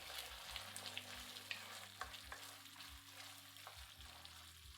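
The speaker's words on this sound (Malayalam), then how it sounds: "സോസ് തിളയ്ക്കുമ്പോൾ 1/2 ടീസ്പൂൺ കുരുമുളക് പൊടിയിട്ട് ഇളക്കിയ ശേഷം" Chilli chicken sauce seasoned with ground pepper simmers in a pan with a steady, close sizzle and bubbling, broken by light scrapes and clinks as it is stirred, over a faint low hum with no speech.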